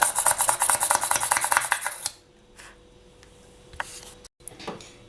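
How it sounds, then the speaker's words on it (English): A fast, rhythmic grinding buzz of a small drill biting into polymer clay runs for about two seconds, then stops, leaving quiet room noise and a few light clicks. "And then I'll just continue for all of them, drilling holes."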